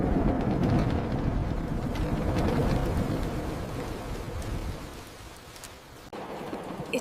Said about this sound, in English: A heavy storm is expected tonight, with strong wind and rain.